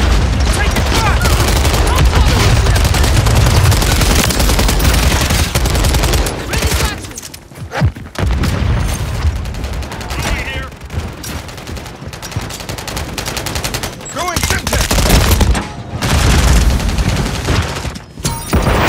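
Gunfire in Call of Duty Modern Warfare 3 during an online match: loud, dense automatic bursts and rapid volleys with booming impacts, briefly thinning midway before heavy firing resumes.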